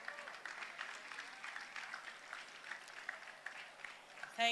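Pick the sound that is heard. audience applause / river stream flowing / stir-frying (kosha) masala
audience applause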